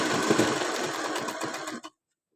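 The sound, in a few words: sewing machine stitching picot on saree falls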